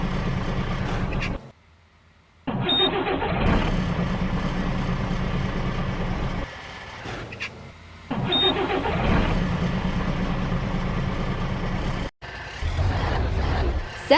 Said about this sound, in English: Start sound.